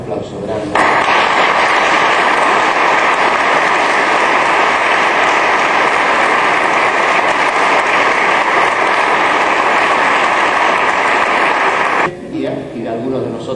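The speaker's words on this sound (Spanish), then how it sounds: "Un aplauso grande." Loud, dense applause from a congregation after a baptism at a youth retreat, a steady wash of clapping sustained for about eleven seconds before cutting off abruptly.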